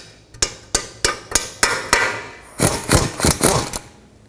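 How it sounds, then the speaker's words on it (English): A hammer taps down the lower control arm ball joint on a 2005-2010 Pontiac G6: a steady series of loud, ringing metal strikes, then a quicker cluster of blows near the end. "while I'm supporting the control arm, I'm going to tap it down with a hammer"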